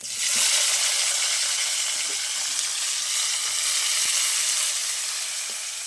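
Chopped tomatoes hit hot oil flavoured with fried asafoetida, producing a loud, continuous hissing sizzle that holds steady nearby with only occasional soft stirring knocks.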